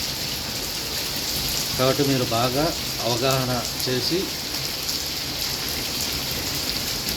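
Steady rain falls outdoors as a continuous close hiss of drops on surfaces, with someone talking briefly over it partway through.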